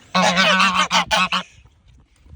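Geese honk loudly and close by in a quick run of about five harsh, nasal blasts before falling quiet.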